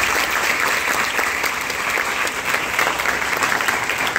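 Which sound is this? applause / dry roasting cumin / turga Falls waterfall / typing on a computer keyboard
applause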